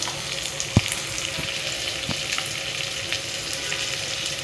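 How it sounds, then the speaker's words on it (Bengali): Green chilies, onion, garlic and dried fish fry in a pan with a steady close sizzle, punctuated by a few sharp utensil taps, with no voices. "কাঁচামরিচ পেঁয়াজ রসুন এবং শুটকিগুলো ভেজে নিচ্ছি"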